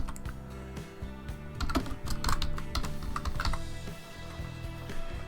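Rapid clicking of keys on a computer keyboard as text is typed, a steady close-up patter of keystrokes with no talking.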